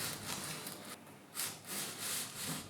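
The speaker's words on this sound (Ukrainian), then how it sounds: "Тепер змінимо поверхню, по якій буде рухатись дощечка на шліфувальний папір." A small wooden board slides over sandpaper in a friction demonstration, giving a steady gritty rasping scrape with a few stronger rubbing surges, close and alone.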